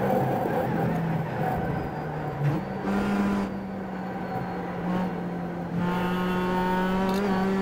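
A Mazda MX-5 roadster engine in the iRacing sim at Lime Rock Park drones steadily and climbs in pitch as it accelerates through the gears, loud and continuous with no talk.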